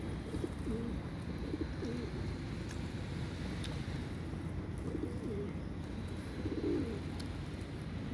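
A large flock of pet pigeons coos softly and repeatedly under a constant outdoor breeze-like rush, with low murmuring calls rising and fading throughout.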